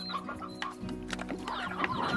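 Hens cluck in the video game Slime Rancher, a few short fowl calls repeating over a steady game hum, fairly close and moderate in level, with no talking.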